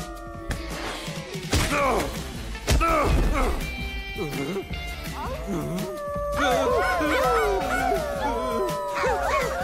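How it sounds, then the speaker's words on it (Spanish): Cartoon werewolf characters from 100% Wolf howling together, several voices rising and falling in long wavering howls that overlap, loud and close, with shouted dialogue in between. "¡Dejen de aullar!"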